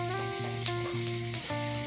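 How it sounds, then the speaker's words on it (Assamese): Panch phoron spices hit hot oil in a home kitchen pan, sizzling and crackling loudly and steadily, with short pops and a tonal hiss that rises and falls in pulses, with no talk. "এই পাঁচফোৰণ দিছোঁ"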